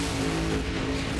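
Two 10,000-horsepower Top Alcohol Dragsters fired up on the starting line at the 2013 Texas Nationals, giving off a loud, steady, dense engine roar with no break and no audible voices.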